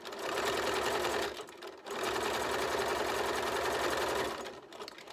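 A sewing machine runs steadily while stitching the body of a fabric farmers market bag. Its close, loud mechanical hum and rapid needle clatter fill most of the clip and pause briefly once.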